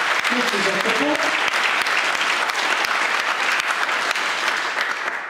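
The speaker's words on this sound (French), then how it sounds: "on peut applaudir les militantes et les militants qui, sur place, se sont battus pour ces entreprises" Dense, steady applause from a large crowd at a political rally in Rennes, France, loud and sustained throughout, with a brief murmur of voices near the start.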